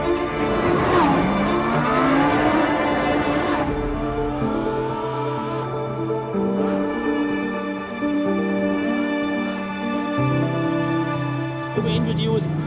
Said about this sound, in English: I feel like a child driving and drifting the Sterrato